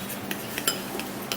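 A spoon stirs a mixture containing apple cider vinegar in a bowl, giving a quiet series of light clinks and scrapes at an uneven rhythm, close and alone.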